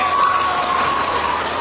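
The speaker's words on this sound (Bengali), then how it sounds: "ওদের জন্য হাততালি দেবেন" An audience at a school scouting event applauds student dance and song performers, a dense, loud burst of clapping with some cheering throughout.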